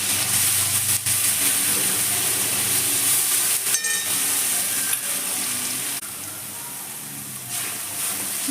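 Onion, ginger and garlic paste, coarsely ground and salted, fries in hot oil with a steady, loud, dense sizzle and hiss that runs unbroken throughout, with occasional small pops.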